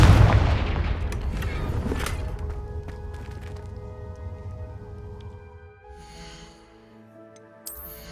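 A fire spell blast in the Hogwarts Legacy video game, a loud boom at the start followed by crackling bursts and a long fading rumble, with a sharp hit near the end.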